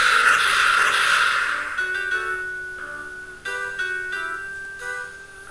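In Golden Sun 2: The Lost Age, a cannon fires a magma ball, giving a loud burst of noisy explosion that fades over a couple of seconds into ringing tonal game sounds and short chimes.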